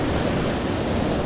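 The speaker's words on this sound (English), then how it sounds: "We have the waves coming in here." Ocean waves roll in at Kahana Bay beside Huilua Fishpond on Oahu's windward coast on a calm day, a steady, close wash of surf with no breaks, voices or gusts.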